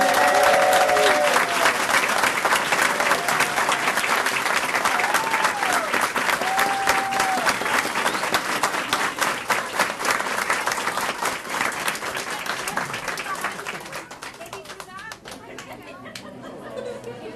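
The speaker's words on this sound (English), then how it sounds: "So I will ask for a big applause for my students." An audience at a school district board meeting applauds students with loud, sustained clapping and some chatter, then the applause slowly thins and fades toward the end.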